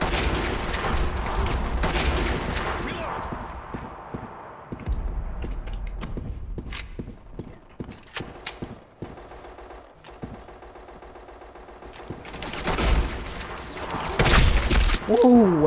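Gunfire from the online shooter Black Squad, with a sniper rifle in use: repeated sharp shots and bursts ring out across the stretch, some close and loud, others thinner and more distant, amid the clatter of in-game action.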